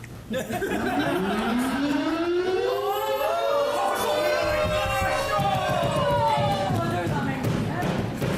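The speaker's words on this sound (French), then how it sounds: "nous avons upgradé à une vraie sirène cette semaine" A real wailing siren marks intermission at an improv cabaret show, rising and falling loudly for several seconds over a noisy, cheering crowd with people talking.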